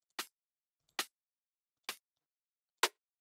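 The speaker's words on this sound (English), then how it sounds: "I stacked snares on top of each other, giving each snare a different volume, creating one sound." Separate layered snare drum samples from a liquid drum and bass track: four crisp, short snare hits, evenly spaced and quiet, with the last one slightly fuller and heavier.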